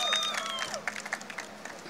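An audience at a poetry mushaira at Shahi Qila, Lahore, breaks into scattered clapping and cheers, a brief loose patter of hands with a few whistles and murmurs, fairly distant.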